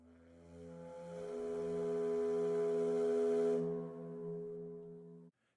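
A deep, sustained low tone resembling a foghorn, used as a heavy game-soundtrack gesture, holds steady for about five seconds, swelling and then fading, with no voices.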